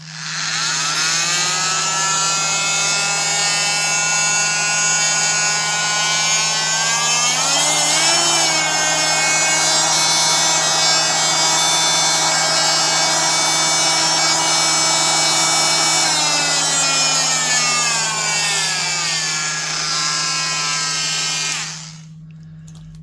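A used Dremel 5-amp Multi-Max oscillating multi-tool with faulty variable speed runs steadily and loudly with a rattly, buzzing whine that dips and climbs in pitch midway, then cuts off near the end.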